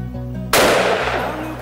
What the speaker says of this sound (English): Took a shot.